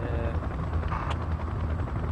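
Helicopter in the video game Project Reality, a steady, loud, close rotor rumble with a brief sharp crack near the middle.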